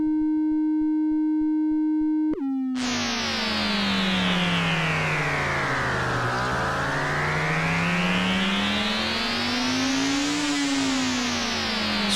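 Output of the AlchemDie synth plugin, modeled on the Make Noise Strega, starts as a steady pure drone, then bursts into a loud, dense, shimmering texture whose pitch sweeps down and back up slowly, sustained throughout.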